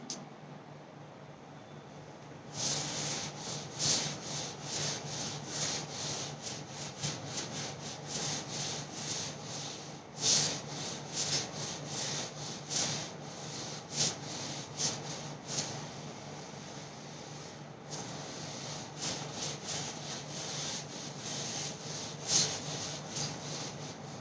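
Steady, continuous rubbing as writing is erased from a classroom board, with repeated scraping strokes that run close and fairly loud for most of the stretch, without any talk.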